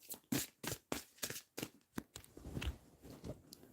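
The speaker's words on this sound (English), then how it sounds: "Right, let's just shuffle some of these though." Playing cards being shuffled, a series of crisp riffling bursts about every half second, close and fairly quiet, no talking.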